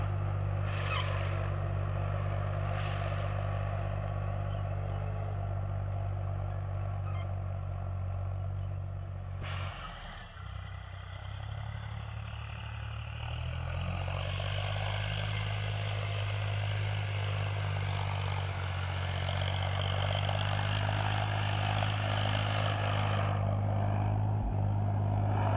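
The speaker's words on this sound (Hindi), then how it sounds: "आवाज देख सकते हैं पावर टेक का, कितना शानदार आवाज है" A Powertrac tractor's heavy diesel engine drones on continuously while pulling a 14-disc harrow, a deep, steady low hum, a brief dip in the middle, then a rising roar near the end.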